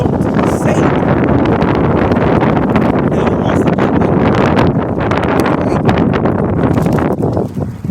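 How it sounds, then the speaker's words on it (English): Strong wind buffets a microphone outdoors, a loud continuous broadband roar with gusty rustling that stays steady throughout and eases slightly at the very end. "Now it wants to get windy."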